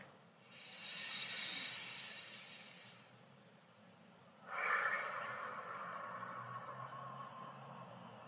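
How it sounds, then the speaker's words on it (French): Loud, close breathing during a guided meditation: one long, drawn-out inhale followed after a short pause by a long, audible exhale, both airy and hissing, with no talking. "N'hésitez pas à faire du bruit lorsque vous inspirez ou expirez."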